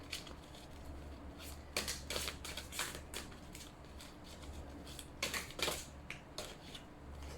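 Tarot cards being shuffled by hand in a warm room where the cards stick together, heard as bursts of crisp riffling and flicking, two denser flurries standing out over a low steady hum.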